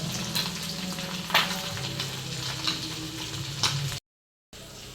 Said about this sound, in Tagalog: Saka ako po ay nagpiprito ng isda.